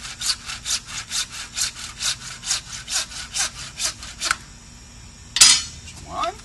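A hand saw cuts through a 1 5/8-inch wooden board, about fifteen steady back-and-forth rasping strokes close by, then a pause and a single sharp knock or clatter near the end.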